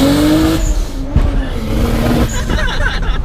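A turbocharged Lexus IS300 launching off a two-step, a loud close engine roar with rising pitch and tire squeal, then a rougher burst of revving and popping.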